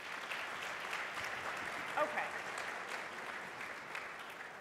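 Quiet applause from a conference audience in a large hall, steady distant clapping with someone briefly speaking over it.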